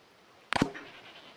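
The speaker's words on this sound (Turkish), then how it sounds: "Dağ keçisi kaçtı." A wild goat in the game Dawn of Man gives a single short bleat, sharp and fairly close, against a quiet background.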